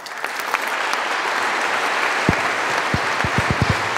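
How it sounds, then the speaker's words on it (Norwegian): Audience applause at a family gathering, a steady, even wash of many hands clapping throughout, with a few low thumps near the end. "Gi dem en applaus."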